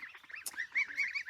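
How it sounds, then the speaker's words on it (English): Farm ducks, among them a Harlequin, a blue Swedish and khaki Campbells, give a string of short nasal honking quacks, fairly close but soft, with a brief sharp squeak partway through. "So I have a Harlequin over there, a blue Swedish, and 3 Cayuga duck."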